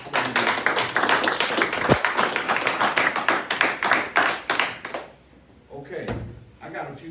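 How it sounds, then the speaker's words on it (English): High school students at a technical and career school applaud in a room, loud sharp clapping for about five seconds that fades out, followed by someone talking. "why don't y'all give yourselves a round of applause"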